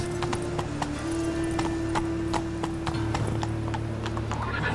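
Hooves of the horse Roach clip-clopping at a quick gallop in The Witcher 3, a steady rhythmic beat with a faint neigh, moderately close and without talk.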